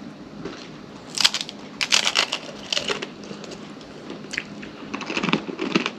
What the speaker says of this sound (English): Let him finish eating, crunching it up.